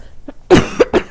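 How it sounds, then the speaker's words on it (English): A few sharp coughs close up, one heavy cough followed by two shorter ones in quick succession. "I'm gonna cough"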